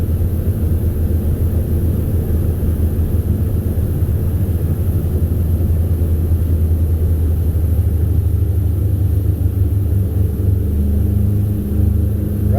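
A Defiance 250 boat's engine holds steady at planing speed, around 3,000 RPM and 18 mph, a loud continuous low rumble with hull and water noise running the whole time.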